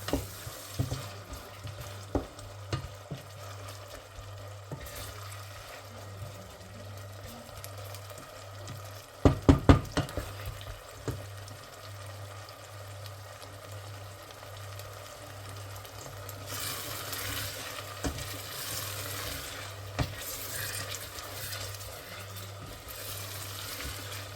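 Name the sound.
zucchini frying and being stirred until soft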